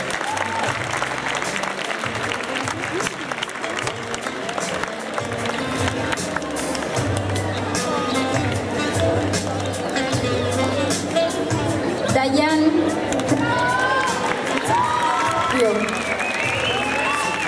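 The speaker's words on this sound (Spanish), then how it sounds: "Un fuerte aplauso a este grupo de alumnas" Strong, sustained applause fills a school farewell ceremony for graduating fourth-year secondary students, honoring a group of female students; dense clapping runs steadily throughout with crowd murmur mixed in.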